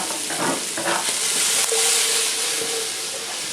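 Asparagus shoots dropped into a hot stir-fry pan with garlic, giving a loud, steady sizzle and hiss with a brief stirring clatter near the start.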